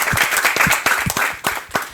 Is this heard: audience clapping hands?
yes